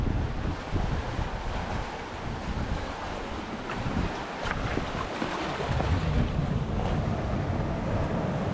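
Sea waves surge and swirl against a pebble coast in Scotland, a steady loud rush broken by sharper splashes, with heavy wind buffeting the microphone throughout.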